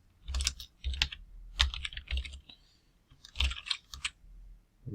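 Someone types a Python for loop at an interactive prompt on a computer keyboard, sounding as close, crisp bursts of keystrokes in quick flurries separated by brief pauses.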